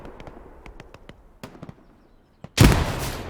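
A grenade blast in the World War II shooter Hell Let Loose erupts loudly after a stretch of scattered distant gunshots, its broad roar rumbling on to the end.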